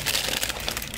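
Plasticky tissue paper crinkles inside a sneaker box, a close, continuous rustling and crackling for about a second with no voice over it.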